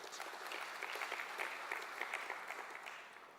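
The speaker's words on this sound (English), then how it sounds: "Can we give them a big round of applause for that?" A crowd claps steadily at a mayoral matric excellence awards ceremony, the applause dense and even from start to finish.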